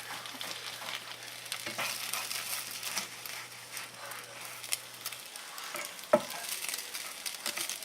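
An egg patty cooking in a pan on a stovetop gives a steady, soft sizzle and crackle that runs throughout, with a brief low hum early on and one sharp clink near the end.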